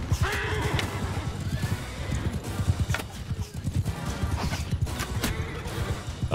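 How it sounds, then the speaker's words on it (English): Horses whinny and neigh amid galloping clip-clop hoofbeats and clashing battle noise in Mount and Blade Bannerlord, a medieval combat video game, with several loud neighs rising over the busy, continuous fighting. "Was needlessly cruel to that horse."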